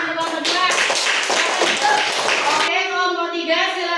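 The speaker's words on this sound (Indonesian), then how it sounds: "Tepuk tangan untuk kelompok 2." A classroom group applauds, with a few seconds of dense, rapid clapping from many hands close by, while voices and singing-like tones carry on alongside.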